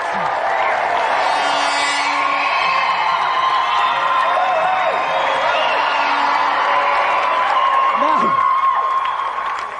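A studio audience at a 1993 GamesMaster taping of an arm-wrestling contest applauds and cheers in a dense, continuous roar, with a few whoops rising above it.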